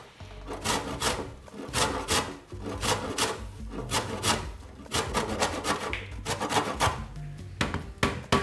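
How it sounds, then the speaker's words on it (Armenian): A lemon rubbed over a grater gives off a steady series of close, crisp rasping strokes, roughly two per second, each a short scratchy swipe, with no talking. "Աշխատեք միայն դեղին մասը քերել"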